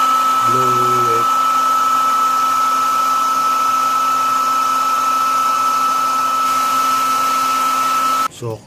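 A hot air blower runs steadily to heat and loosen skateboard grip tape, giving a loud, continuous close whine that holds for about eight seconds and then cuts off abruptly.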